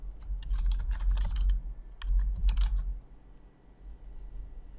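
Typing on a computer keyboard to name a new folder: rapid clusters of close, crisp key clicks in two bursts, then quieter scattered taps, with no speech.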